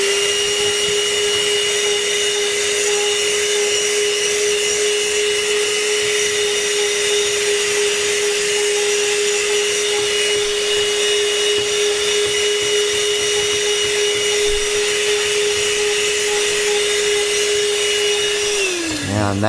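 A ThisWorx TWC-01 portable car vacuum cleaner runs steadily with a loud, high-pitched motor whine while sucking up dirt, then winds down abruptly at the end, close and with no talking.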